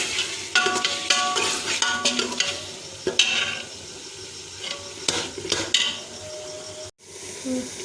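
Tomatoes fry with mince and kachnar in a pan, a steady sizzle broken by repeated scrapes and clinks of a spoon stirring against the pot, close and fairly loud. A brief gap of quiet comes near the end.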